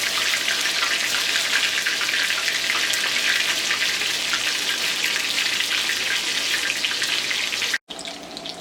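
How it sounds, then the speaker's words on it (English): Meatballs sear in a hot pan with a loud, dense, continuous sizzle that holds steady for about eight seconds, then cuts out abruptly before resuming more faintly. "You just want to get a good sear on them."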